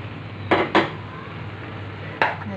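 Stir-fried pechay and cubed fried tofu being stirred in a pan, with three sharp clatters of a utensil against the pan, two close together and one later, over a low steady background hum.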